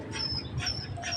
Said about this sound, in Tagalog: Ayan si Jack ang 91 years old naming aso, my favorite pet, my favorite baby dog